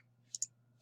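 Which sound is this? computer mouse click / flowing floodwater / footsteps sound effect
computer mouse click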